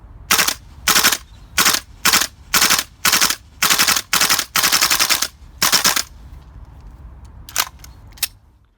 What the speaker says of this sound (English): While the system has the capability to complete a mag on one continuous burst